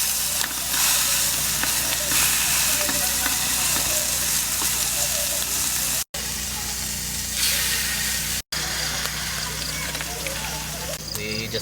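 Pork belly grills in a pan on a camping trip in the mountains a few days after a typhoon, sizzling with a steady, dense hiss and spit close by that runs the whole time, and soft talk sits beneath it.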